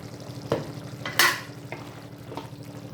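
Dried fish fried with pepper being stirred in a pan: a few scraping strokes at irregular intervals, one louder sharp scrape in the middle, over a faint steady sizzle.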